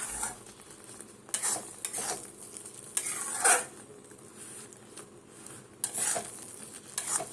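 Upma, with peanuts, being stirred in a pan as it cooks, a faint sizzle under repeated scraping strokes of a spoon against metal, spaced every second or so.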